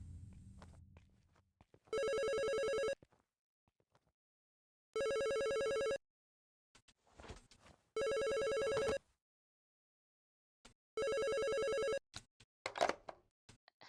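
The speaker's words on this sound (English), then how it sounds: "maybe this is the phone we need to answer" A telephone rings in the horror video game Fear The Spotlight, four evenly spaced electronic ring bursts about a second long each, separated by quiet gaps with faint shuffling and clicks.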